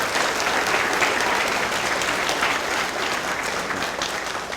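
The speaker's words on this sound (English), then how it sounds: "Please give them a round of applause." An elementary school audience gives steady, dense applause for fifth-grade students at a celebration, loud and continuous throughout with no talking over it.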